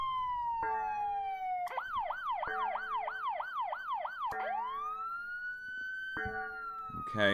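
Earthquake alert siren set to sound for magnitude 7.0 and greater quakes, playing electronic wailing and rapidly yelping tones that shift pitch in sequence, loud and clear with no talking.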